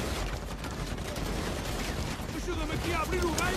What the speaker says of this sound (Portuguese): Estamos a levar tiros, Sam!